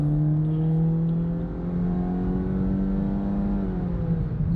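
A 2017 Honda Civic LX with a four-cylinder engine and CVT accelerates, giving a loud, smooth, steady drone whose pitch climbs gently and evenly, heard alone from inside the car.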